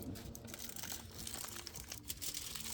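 Foil paper being crumpled and crinkled around spiced food, a close, busy run of crackling and rustling that goes on without a break and with no voices.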